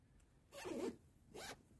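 Two quick zips sound as a zipper closes on a handmade cosmetic bag. A longer, louder pull comes first and a shorter one follows, both up close against a quiet background.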